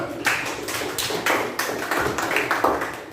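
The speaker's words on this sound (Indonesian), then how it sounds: "tepuk tangan untuk Bisma" Classroom applause for a student, a scattered group of hands clapping in uneven bursts at close range, with no talking.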